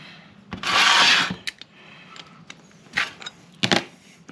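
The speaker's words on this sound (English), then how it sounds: "a little 10mm socket or wrench. Let's see if we can bust this bowl off of here" A 10mm socket or wrench works loose the tight carburetor bowl on a Honda push mower: a close burst of scraping metal, then scattered sharp clicks and clanks from the tool.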